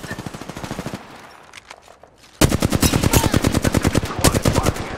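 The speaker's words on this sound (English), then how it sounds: "Squad is firing at us." Automatic weapon fire in the Apex Legends video game, long rapid bursts of gunshots, with a brief quieter lull before a loud close sustained volley.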